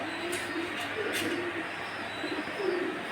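Soft, low pigeon coos repeat a few times against a steady background hum on a cattle farm, with faint rustling throughout.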